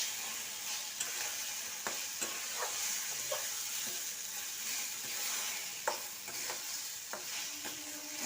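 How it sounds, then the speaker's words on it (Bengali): Spatula stirring a bottle gourd curry in a frying pan until dry, with a steady sizzle and repeated scraping strokes at an uneven rhythm, close and clear, no talk. "এবার এটাকে আমি খুব ভালোভাবে নেড়ে নেবো"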